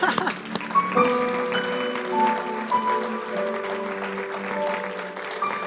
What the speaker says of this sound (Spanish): Un aplauso fuerte, ¿verdad?